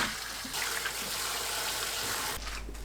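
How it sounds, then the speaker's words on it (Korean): Butterbur shoots rinsed in cold water: a close, steady rush of running water with light splashing that continues throughout, ending in a slightly heavier gush. "손질하고 한 번 더 찬물에 헹굽니다."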